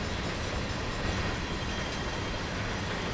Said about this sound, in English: There's a ghost train rolling past very slowly.